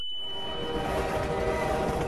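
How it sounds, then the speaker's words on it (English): A train in the video game Half-Life 2 rumbles past loudly and continuously, with a sustained horn tone over dense rolling mechanical noise, close and with no speech. "I need to beat the train."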